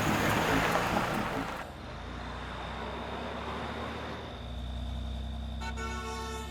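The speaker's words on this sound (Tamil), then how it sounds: "வண்டி எடு, வண்டி எடு" A car engine runs and the vehicle pulls away, with a steady broadband rumble that drops after a moment and then swells again as it drives off, with a brief horn-like tone near the end.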